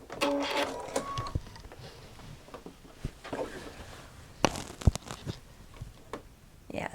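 A home sewing machine stitches over the seam of a two-tone tote bag in short whirring bursts with a few sharp clicks and knocks between them, close by and moderately quiet.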